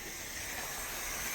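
Beer can cracked open with a steady, faint fizzing hiss that runs throughout, no voices.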